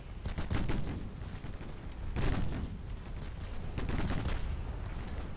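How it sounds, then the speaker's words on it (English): Naval 6-inch guns firing in a warship video game, aboard a Scharnhorst-type ship: three heavy, booming salvos spaced a second or two apart, each a loud blast with a rumbling tail, with no voices. "6-inch guns will make a mess of them"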